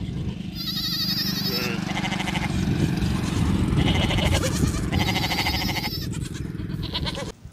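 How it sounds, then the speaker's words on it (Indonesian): A toy sheep gives loud, buzzy electronic bleats, one after another for several seconds with only brief gaps, close and continuous. "ini adalah domba"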